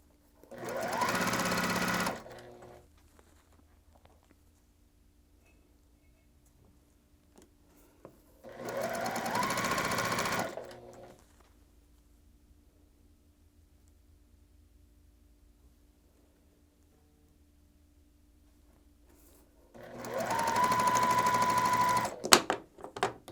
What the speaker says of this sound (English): so I'm going to sew 4 of these together